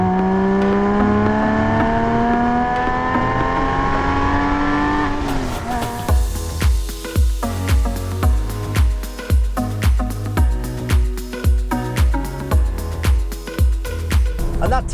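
A Porsche 997's 3.8-litre flat-six engine climbs in pitch as it accelerates hard, then settles into a rapid, rhythmic burbling with sharp pops, loud and close.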